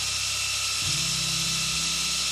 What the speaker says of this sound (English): As we continue and finish the grind with the 3-inch wheel, I'll get rid of the rest and just do it by hand.